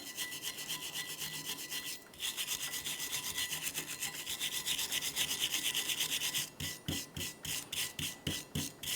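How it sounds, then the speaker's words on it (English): Wire brush scrubbing a rear brake caliper bracket on a 1994–2002 Ram 2500: steady, close rasping strokes that shift after a brief pause into a run of short, rhythmic scrubbing passes. "we clean the bracket along this area here, along this edge, and then all inside of this area as well. Use a wire brush for that."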